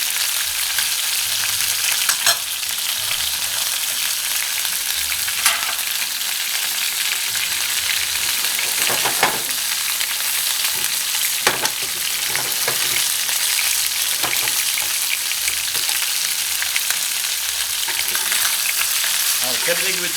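Onions, peppers and mushrooms fry steadily in a pan for chicken cacciatore, a dense continuous sizzle with occasional louder crackles and stirring scrapes, close and with no talking.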